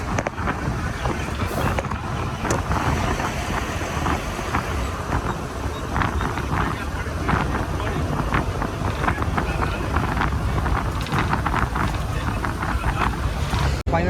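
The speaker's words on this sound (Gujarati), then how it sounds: "મસ્ત ઠંડો પવન આવે છે" Cold wind rushes steadily past a moving GSRTC express bus on a Gujarat highway, a loud continuous roar of gusts and road rumble throughout, with faint speech now and then.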